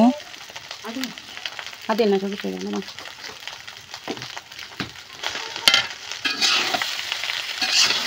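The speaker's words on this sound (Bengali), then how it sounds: "এখন আগে থেকে ভাইজা রাখা ডিম দিয়ে আবার উল্টায় পাল্টা নিতেছে" Fried rice with vegetables and a previously fried egg is stirred and tossed in a pan over a clay stove, with scraping and sizzling in bursts and a voice talking between the strokes.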